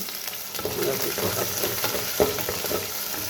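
Garlic and ginger are added to a frying pan and sizzle steadily at close range, with bursts of stirring and a few sharper spatula clinks, and no talk.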